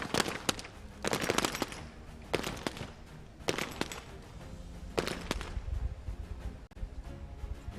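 Bursts of submachine gun fire at targets during a SWAT team challenge, several rapid volleys of shots spaced out over a steady outdoor background, loud and fairly close.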